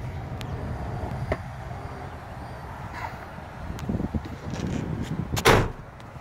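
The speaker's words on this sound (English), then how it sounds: "Go ahead and open up the other doors here for you." Several doors of a 2005 Ford F-250 pickup truck are opened and shut one after another at a dealership, with clunks and latch thuds against quiet outdoor background.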